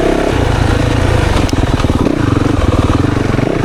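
A 2024 Yamaha YZ450FX dirt bike engine cracks open on the throttle and revs hard in a loud, steady bark, pulsing throughout with a brief sharp spike midway.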